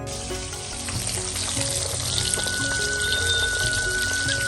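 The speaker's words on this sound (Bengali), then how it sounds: "মাছগুলোর উপর লবণ হলুদ মেখে ম্যারিনেশন করে তারপর একটু তেলের মধ্যে ভেজে নিচ্ছে" Pabda fish marinated in salt and turmeric fry in oil, with a loud, constant close-up sizzle and spatter and a faint thin whistle partway through.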